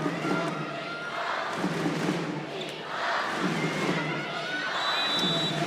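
A crowd of 10,000 at an international women's volleyball qualifier between Japan and the Dominican Republic, a broad roaring cheer that rises and falls in waves under continuous commentary.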